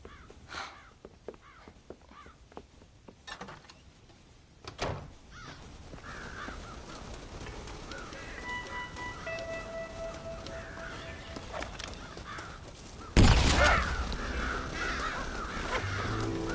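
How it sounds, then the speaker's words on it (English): Crows cawing in the Red Dead Redemption game on PS4, scattered harsh calls over a farm ambience with a steady background bed, a louder burst of noise near the end. "Damn crows!"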